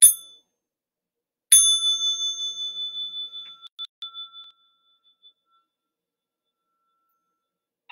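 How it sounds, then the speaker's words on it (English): A small meditation bell used for stretching and massage is struck twice. A brief first ding is followed by a clear strike that rings out and fades over about three seconds into near silence. "small bell for stretching and massage."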